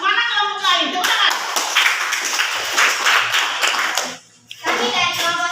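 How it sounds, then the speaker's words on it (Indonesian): A classroom group claps together in a burst of applause, with children's voices talking over it before it fades, then more chatter. "Tepuk tangan."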